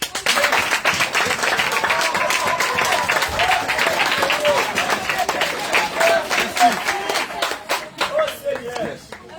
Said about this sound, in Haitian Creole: On applaudit cet esprit.